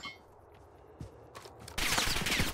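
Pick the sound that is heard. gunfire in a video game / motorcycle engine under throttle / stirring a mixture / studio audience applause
gunfire in a video game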